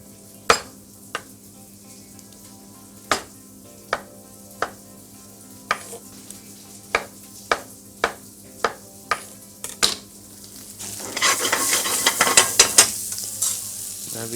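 Tomatoes going into a frying curry: a run of evenly spaced sharp knocks, like a spoon tapping the pan, over a low sizzle, then a louder burst of hissing frying and stirring near the end.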